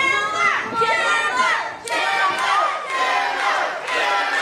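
A wrestling arena crowd roars and cheers steadily, loud shouting voices swelling in waves throughout.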